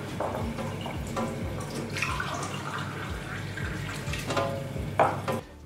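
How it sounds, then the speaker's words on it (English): Warm water is poured from a tap into drinking glasses, a continuous splashing trickle with small gurgles and a louder splash near the end before it stops. "So the first thing we want to do is fill our glasses with warm water."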